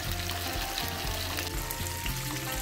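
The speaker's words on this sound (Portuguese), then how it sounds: "aqui eu coloquei um óleo bem quente e fui colocando os pedacinhos para fritar" Chicken pieces frying in very hot oil, a dense continuous crackling sizzle, close and steady for a few seconds with no pauses.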